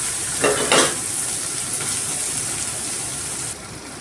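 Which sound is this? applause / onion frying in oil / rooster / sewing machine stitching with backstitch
onion frying in oil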